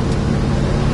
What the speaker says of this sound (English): Stock style Mopar exhaust system, has a nice crisp sound to it.